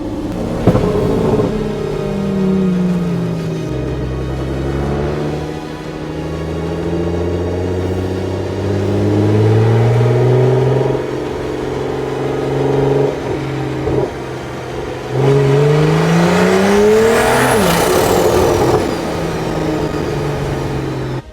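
Heavily modified, turbocharged BMW M340i making around 800 wheel horsepower revs hard on launch control, then launches, its loud engine rising and falling through several surging pulls before a final high-pitched rising scream.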